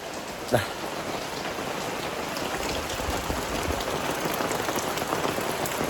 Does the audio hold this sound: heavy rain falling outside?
yes